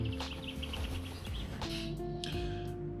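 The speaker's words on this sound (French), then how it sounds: "Les petits oiseaux." Small birds chirp faintly in the distance outdoors in the early morning, brief high tweets over a steady low rumble of background noise.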